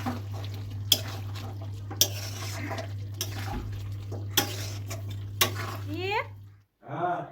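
Chicken curry being stirred in a pan after the last of a special spice mix goes in, with scattered spoon scrapes and knocks over a steady low hum, then brief talk at the end.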